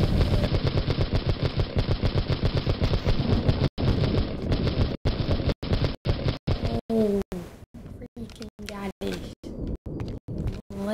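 A diamond assault rifle in Castle Miner Z fires rapid, steady automatic bursts that run continuously at first, then break into shorter stuttering volleys with brief gaps, loud and close.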